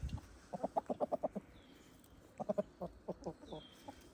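Backyard chickens clucking in quick bursts of short, rhythmic notes, one run early and another later, near and moderately soft, with a quiet pause between and faint outdoor background.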